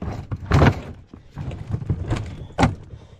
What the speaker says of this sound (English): I can't do it with one hand. Not when the drawers are opening.